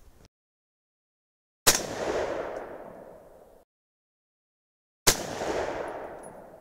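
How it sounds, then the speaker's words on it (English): Two loud, sharp 6.5 Creedmoor rifle shots firing Berger 130gr hybrid bullets on a range, each a single crack followed by a long fading echo, spaced a few seconds apart with no talk. "So let's shoot a quick 3-shot group to check things out and double check our zero."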